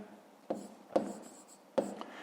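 Pen or chalk strokes on a board or page while solving a fifth-grade math exercise, three short scratchy bursts at a steady pace, close and fairly clear over a quiet room with no talk.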